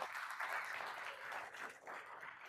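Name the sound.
audience applause for the SOS team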